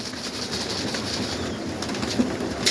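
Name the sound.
pigeons cooing in dovecote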